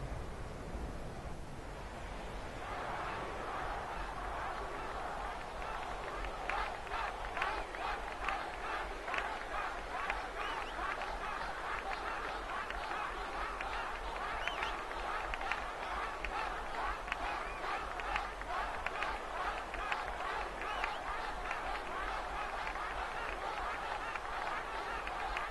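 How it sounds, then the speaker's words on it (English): Crowd noise from a blitzball match in the video game Final Fantasy X, a dense sustained roar of cheering that starts after a quiet opening and stays loud and steady with rhythmic chanting pulses throughout. "The crowd is going wild!"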